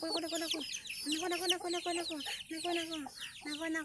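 Several chickens squabble noisily, loud overlapping clucks and squawks in rapid bursts, close by, with a rooster-like call mixed in.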